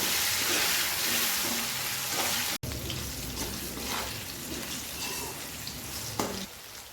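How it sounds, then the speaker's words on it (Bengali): Potatoes tossed with turmeric and salt fry in a pan, a close continuous sizzling hiss with occasional scrapes and taps of stirring, briefly cut off once and fading a little toward the end. "আলুগুলা একটু ভাজা ভাজা করবো"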